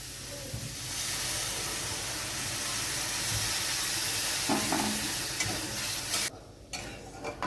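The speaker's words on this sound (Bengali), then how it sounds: "এখানে আমি 1/2 লিটার দুধ একটু ঘন করে ফুটিয়ে রেখেছি, এটা আমি দিয়ে দিচ্ছি।" Thickened boiled milk is poured onto fried carrots in a pan for carrot halwa, a loud hissing, bubbling sizzle that holds steady and then drops off near the end with a few stirring knocks.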